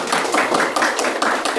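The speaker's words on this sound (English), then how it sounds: "Clap for him." An audience at a Srimad Bhagavat Saptaaham discourse claps in a short burst of quick, sharp, evenly paced hand claps, fairly close and clear, with no talking.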